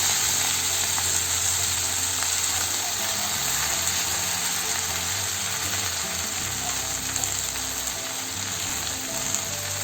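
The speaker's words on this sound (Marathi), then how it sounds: "लसूण आणि मिरची तेलामध्ये मस्त भाजून झाल्यानंतर लगेच भाजी टाकायची." Water spinach hits hot oil with garlic and chilli in a pan, producing a loud, continuous close-up sizzle and crackle that holds steady throughout, alone without talk.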